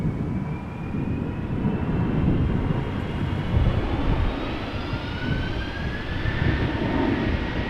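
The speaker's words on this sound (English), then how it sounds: "777 to Johannesburg, taking off from center" A Boeing 777 bound for Johannesburg takes off from Schiphol's centre runway, a continuous heavy rumbling roar with rising engine whine tones, fairly close and steady across the whole stretch.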